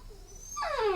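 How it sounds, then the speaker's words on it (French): Sleeping dog's noises: a soft, rising whimpering whine in the second half of the clip, fairly close in a quiet room, no talk. "ce que vous entendez c'est mon chien qui est en train de dormir."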